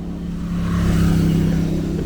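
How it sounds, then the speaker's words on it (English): A car passing on a suburban Baltimore road, its engine hum swelling to a steady close drone midway through and holding, with no talking. "road has more traffic than what I anticipated"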